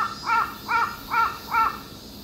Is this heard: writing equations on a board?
no